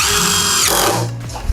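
A Stanley Fatmax 20V cordless brushless impact driver whirs loudly as it bites into Dutch teak wood, then winds down and stops with a faint mechanical clack.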